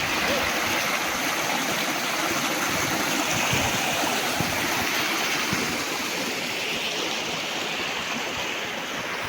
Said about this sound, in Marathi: हे पाणी सगळं बाहेर नदीला जातं